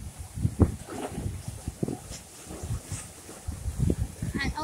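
Gusty wind buffets the microphone in irregular bursts, rumbling low and uneven throughout.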